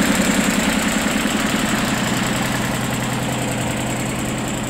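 A Shibaura P15F mini tractor engine idles steadily nearby, a loud, even low-pitched diesel throb with a faint rhythmic knock that holds constant throughout.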